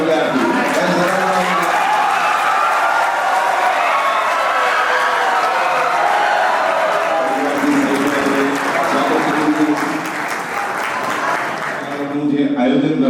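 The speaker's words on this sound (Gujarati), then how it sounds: "એકવાર જોરદાર તાળીઓ." Applause from the audience at a school graduation ceremony, a steady dense patter of clapping filling the hall for most of the stretch before tapering near the end, with voices mixed in.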